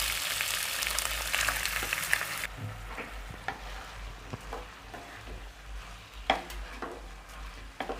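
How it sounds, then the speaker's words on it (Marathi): Soaked rice is sautéed in a pan, opening with a bright sizzle that drops to a quieter crackle, with a spoon scraping and clinking against the pan at intervals, close and fairly faint. "आणि हा भिजलेला तांदूळ त्यात टाकून परतून घ्यायचा आहे."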